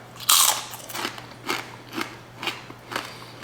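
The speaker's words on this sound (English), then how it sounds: "let's give these microwave scorpion pork rinds a try" Microwave-popped pork rinds dusted with scorpion rub being crunched, a loud first bite then five evenly spaced softer crunches, close and alone.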